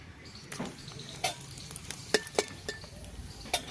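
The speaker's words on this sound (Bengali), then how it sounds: "তেলে ফোড়নে দিয়ে দেব গোটা গরম মশলা।" Whole garam masala hits hot oil in a pan where eggs were just fried, making a soft sizzle with scattered light clinks and stirring taps, close and quiet, with no voices.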